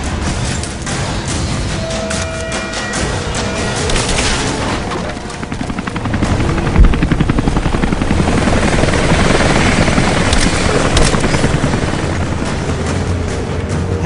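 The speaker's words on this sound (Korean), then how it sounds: "헬기 나오고 난리 났다." Helicopter in the video game Rise of the Tomb Raider: a loud, steady rotor roar fills the whole stretch, with game gunfire and booms layered in the mix.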